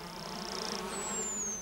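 A honeybee buzzes with a steady, continuous drone over a noisy background, with a high thin tone gliding through part of it.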